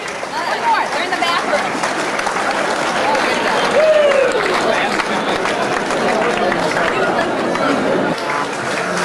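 Loud sustained applause and clapping from a large ballroom audience at a swing orchestra show at Glen Echo Park, Maryland, mixed with cheering and crowd chatter, continuing throughout.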